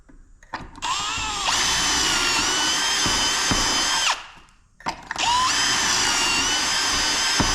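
A power drill whirs loudly in two long bursts during LP lap siding installation on a lakehouse build, a short pause between them, close up with a high, steady motor whine.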